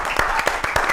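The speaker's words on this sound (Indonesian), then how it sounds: "Tepuk tangan lagi dong" A studio audience claps on request during a talk show interview, a short stretch of fairly dense, moderately loud applause.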